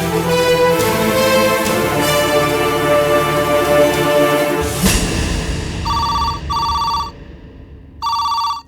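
Telephone bell rings in a Tamil TV serial scene, first buried under loud dramatic music and dialogue, then in three distinct electronic bursts near the end, fairly loud and close.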